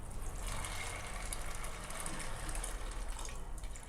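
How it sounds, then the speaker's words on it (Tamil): Water is poured into a pressure cooker holding roasted beans, a steady close gushing splash that runs continuously without pause. "சேர்த்துட்டு தண்ணி ஊற்றிக்கலாம்."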